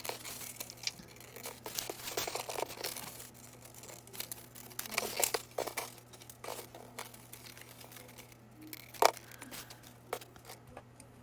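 Scissors cutting through craft paper traced with a cross shape, a close, quiet run of crisp snips and rustling paper at an uneven pace, with no talk.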